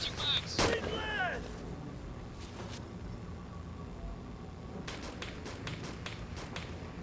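Distant bursts of gunfire crackle in short rapid volleys, faint beneath the ambient background of the game Arma 2, with brief talk at the start.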